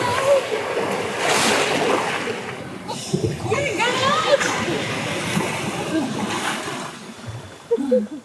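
Ocean waves splash and surge against coastal rocks in Thailand, a continuous rushing wash with louder sloshing bursts. A voice speaks over the surf.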